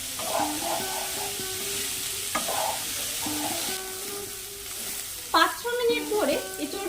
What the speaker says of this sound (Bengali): এঁচড়গুলোকে খুব ভালোভাবে ভেজে নিতে হবে